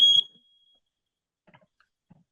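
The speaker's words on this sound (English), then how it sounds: "Was that on my end with that beep?" A single short electronic alarm beep, like a smoke detector chirp, sounds loud and sharp at the very start, then fades into near silence with a few faint distant bumps.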